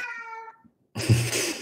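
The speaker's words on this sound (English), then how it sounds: "I don't know if you can hear my cat trying to communicate with me now on this." A pet cat meows once up close, a short vocal call, followed after a brief silence by a burst of louder rustling noise.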